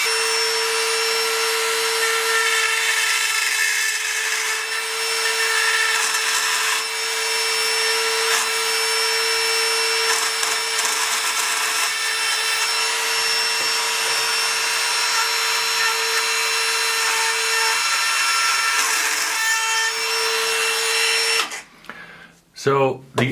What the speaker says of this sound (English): So I use a Dremel, maybe a knife,